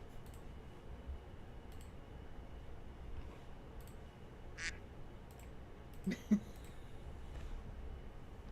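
A duck quacks once, faint, during a tabletop gaming session, a short tonal burst amid quiet room noise, followed by a couple of soft clicks.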